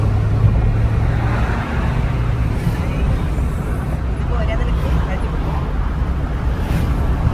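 Upgraded car fitted with a performance intake accelerating hard, a steady loud engine drone throughout with people talking over it inside the cabin.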